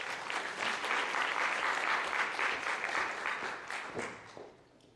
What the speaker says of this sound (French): Un tonnerre d'applaudissements pour nos 4 prochaines invitées